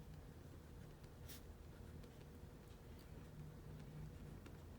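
A pen writes on the paper of an Erin Condren planner with faint, soft scratching strokes under a low steady room hiss, close by and without speech.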